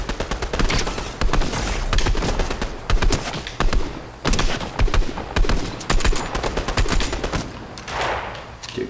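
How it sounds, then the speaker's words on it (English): Rapid bursts of gunfire in the video game Fortnite, loud clustered shots and volleys repeating in uneven rhythm with brief gaps, no one talking. "people taking shots"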